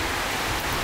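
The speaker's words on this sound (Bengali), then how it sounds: "বৃষ্টি ওই পাশে হচ্ছে, অনেক জোরে বৃষ্টি হচ্ছে" Heavy rain falling during a stretch of several days of downpours in Rangpur, a loud, steady, broadband hiss with no breaks, with no one talking.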